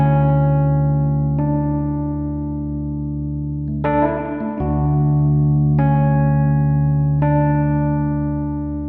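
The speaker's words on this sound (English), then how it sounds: "there's a spring reverb element of that delay reverb unit that I'll show you by itself" A Rhodes electric piano played through the spring reverb section of a delay reverb unit, sustained chords ringing with a wash of springy reverb, a brief clattering burst midway, alone without talk.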